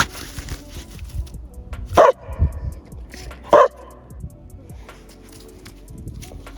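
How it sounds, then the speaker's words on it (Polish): A dog outdoors in winter in Finland gives two sharp, loud barks a second or so apart, with quieter rustling, scuffling and low murmurs in between. "Ten pies ma skłonności do, do samodestrukcji"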